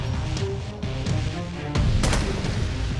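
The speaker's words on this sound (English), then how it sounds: "I hear gunfire." Gunfire in the survival zombie game Infestation Survivor Stories, with a couple of sharp, loud reports over dense in-game background noise, no speech during the shots.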